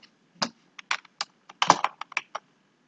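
Typing on a computer keyboard while installing an HTML snippets package in Sublime Text 3, heard as a dozen or so close, crisp key clicks in uneven bursts with short pauses, alone with no talk.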